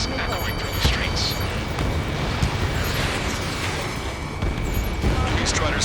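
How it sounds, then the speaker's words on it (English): Gunfire and roaring jets fill a city under martial law in the Ace Combat 7 video game, a continuous loud rumble broken by booming bursts, with a voice partly over it. "Gunfire and the roar of jets echoing through the streets."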